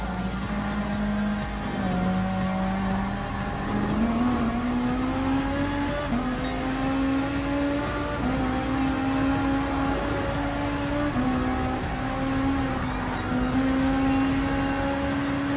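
A racing car engine in Gran Turismo Sport holds a steady high drone, pitch rising gradually through each gear and dropping briefly at the shifts, loud and continuous with faint tyre and wind noise underneath.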